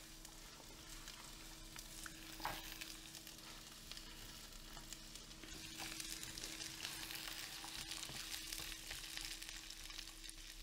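Garlic and green asparagus fry in oil in a pan, a steady quiet sizzle with soft stirring and scraping noises, continuous and close with no talk.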